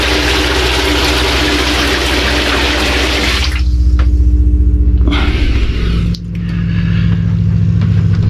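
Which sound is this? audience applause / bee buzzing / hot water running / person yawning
hot water running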